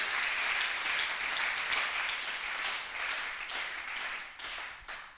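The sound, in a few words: church congregation applauding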